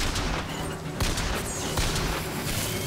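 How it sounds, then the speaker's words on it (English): A dense, continuous stretch of booming combat noise from the video game Bioshock Infinite, with an explosion among sharp repeated blasts that sound like gunfire, loud and steady throughout. "That's an explosion."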